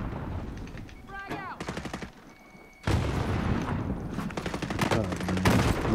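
Rapid automatic gunfire rattles through a multiplayer shooter video game in dense bursts, loud and close, with layered weapon fire and game sound effects that continue almost without a break.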